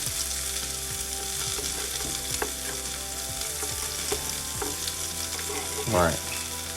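Onion sizzling and frying in hot oil in a skillet, a steady crackling hiss broken by stirring scrapes and occasional louder spits, with a brief spoken word over it.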